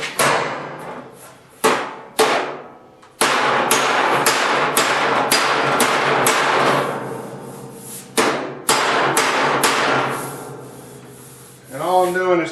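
Repeated sharp metallic slaps of a body slapper on a sheet metal minitruck bed panel, bursts of rapid strikes separated by brief pauses, close and loud.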